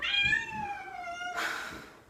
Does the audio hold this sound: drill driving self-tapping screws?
no